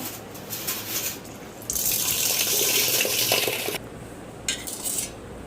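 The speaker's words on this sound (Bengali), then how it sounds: "এবারে চালটাকে আমি জল দিয়ে ভালো করে ধুয়ে নেব" Rice is washed in a kitchen sink with running tap water, with a burst of pouring water, swishing and small clinks of a vessel nearby, nearby and moderate in level.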